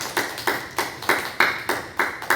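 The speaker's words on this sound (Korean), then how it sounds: "우리 하나님께 영광의 박수를 올려드리겠습니다." Church congregation at a Wednesday worship service clapping in unison, about eight loud, evenly spaced claps in a steady rhythm.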